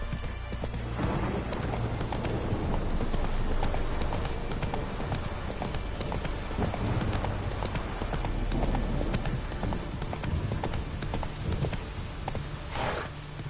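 Roach, Geralt's horse in The Witcher 3, gallops with rapid, continuous clip-clopping hooves, loud and close, against game music and ambience.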